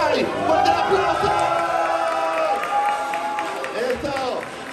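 A wedding reception crowd claps and cheers in a dense, loud wash of applause with overlapping voices, filling the room for several seconds.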